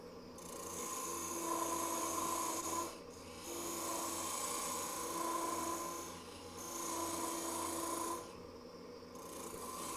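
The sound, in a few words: lathe running at about 2,000 rpm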